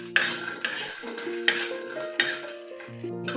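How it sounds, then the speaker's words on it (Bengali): Biulir dal bori frying in a pan, with light sizzling under repeated sharp clinks and scrapes of a spoon stirring against the metal, close by and with no talk. "প্রথমেই আমি এটাকে একটুখানি ভেজে নিচ্ছি"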